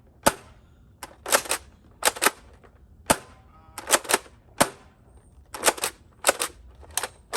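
Nerf Rival Curve Shot Helix blaster firing foam balls, a series of sharp, close pops spaced irregularly, some single and some in quick pairs, with no talk during the shots.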